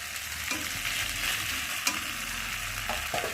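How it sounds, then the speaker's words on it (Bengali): Cauliflower and peas with spices frying and being stirred in a pan, a steady close sizzle with occasional scraping stirs throughout. "ফুলকপি আর মটরশুঁটিটা একটু ভালো করে কষিয়ে নেবো মশলার সাথে"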